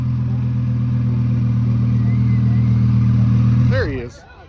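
Audi R8 with a Weistec Stage 1 twin turbo setup making about 750 to 800 wheel horsepower, at an exotic car show, holds a loud, steady droning rev close by before the note drops away abruptly near the end.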